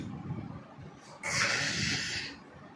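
After a quiet moment, a two-year-old child lets out one long, breathy hissing growl, about a second long, imitating a tiger.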